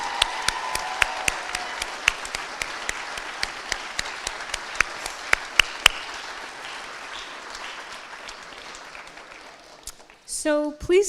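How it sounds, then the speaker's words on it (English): A graduation convocation audience claps for the graduates, a moderate steady round with individual sharp claps standing out nearby, tapering off before a brief burst of voice and noise at the end. "Let's hear another round of applause for our graduates"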